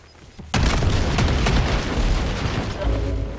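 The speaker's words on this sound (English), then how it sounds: "Grenade, get back!" A grenade explosion in the video game Call of Duty Warzone, one sudden loud boom that hits hard and then rumbles on as a long, dense roar of debris and reverberation.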